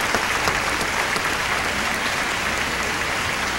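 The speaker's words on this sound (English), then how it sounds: "Can we give the school a big hand and clap this evening?" A church congregation at a homecoming service gives a school a big hand. The clapping is dense, even and sustained throughout, with no pause or voice rising above it.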